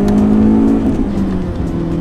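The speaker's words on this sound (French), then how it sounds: "Le moteur est hyper rageur." A BMW 320iS engine pulls hard under acceleration in fourth gear, a loud, steady in-cabin drone with rising harmonics that briefly shift mid-pull, heard close and continuous without talk.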